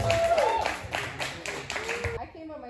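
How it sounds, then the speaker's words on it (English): A stand-up comedy club audience clapping for a guest, a brief burst of rhythmic hand claps, moderately close, with a voice talking over the start and the applause cutting off near the end. "Give her a round of applause."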